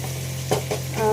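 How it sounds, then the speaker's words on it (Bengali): Steady sizzle of potatoes frying in a pan, with a couple of soft stirring scrapes and a brief clink near the end; no voices. "আলু ভাজা হচ্ছে এখানে"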